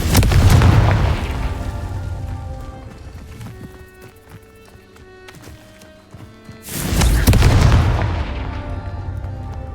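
Confringo spell blasts in Hogwarts Legacy: two loud booming explosions, one at the start and one a few seconds later, each decaying into rumble over layered game effects and music.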